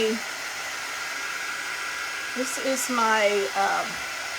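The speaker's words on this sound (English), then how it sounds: "It's a quick dry tool, so it doesn't get super hot." A quick-dry heat tool blows warm air in a steady close whoosh, continuous throughout, while someone talks over it.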